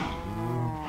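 Cows mooing in the Minecraft video game, a low drawn-out bovine moo, close and steady for under a second, with no talk over it.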